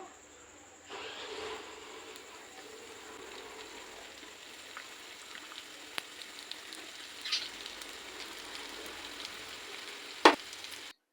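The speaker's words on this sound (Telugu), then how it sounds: "వీటిని కూడా గోల్డెన్ కలర్లో వచ్చే వరకు ఫ్రై చేసుకొని తీసి పక్కన పెట్టుకోవాలి" Onion samosas deep-frying in hot oil give a steady, fairly quiet sizzle with soft crackles, followed by a brief sharper clatter near the end.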